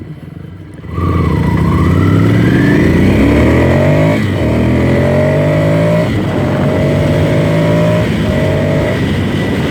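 A Ducati Scrambler Desert Sled motorcycle rides on pavement. The engine starts loud and close, climbs steadily through the revs, then holds a strong drone with brief dips at the gear shifts, and no one speaks.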